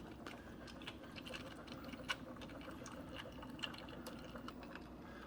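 A Keurig coffee maker pushes water through a Lipton iced tea K-Cup, a quiet, steady gurgling trickle with small drips and ticks, faint and unaccompanied by voices.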